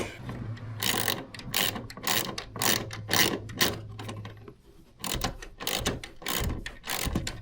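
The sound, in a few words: socket wrench ratcheting a bolt tight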